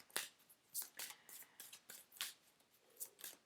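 Tarot cards are shuffled in quick, crisp riffling bursts, close and fairly quiet, with no talking.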